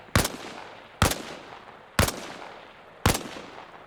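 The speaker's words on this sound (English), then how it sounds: "only this time fire from a kneeling position" Four sharp rifle shots ring out at an even pace, about one per second, each with a short echoing tail, fired from a kneeling position in the video game Arma Reforger.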